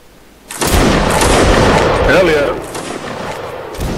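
Musket gunfire from a Napoleonic line-battle game arrives as a sudden loud crackling volley that rolls on and gradually eases. A voice is heard in the background.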